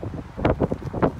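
Gusty wind rushing against the microphone in quick uneven puffs, a short burst of blustery rumble, while out cycling on a bike.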